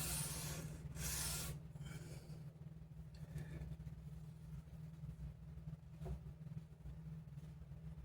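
Sandpaper of 400 grit rubbing across a Squier bass body, a soft rasping scrape that swells in short strokes near the start, then fades to a faint hiss over a steady low hum.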